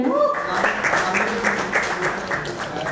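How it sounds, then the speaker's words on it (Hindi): Audience clapping for a song's lyric writer at a music video launch event, a dense burst of applause filling the short moment, with a voice faintly under the claps at the start. "भाई लिरिक राइटर के लिए जोरदार तालियां हो जाएं."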